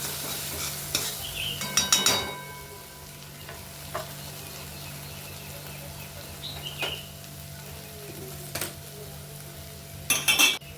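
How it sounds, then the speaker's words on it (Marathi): Masala being sautéed with turmeric and salt in a pan for brain chutney, soft steady sizzle under a low hum, with a few clinking spoon-and-pan stirring bursts near the start and end, close up and without talk. "त्याला छान परतून घ्यायचं, एकजीव करून घ्यायचा"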